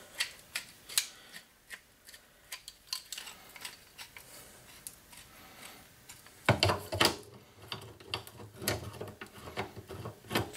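Vice grips clamp and ratchet onto a loose metal motor mount on an SR20 Maverick, a series of close, sharp metallic clicks and snaps at an uneven pace, growing louder and busier with heavier clanks toward the end.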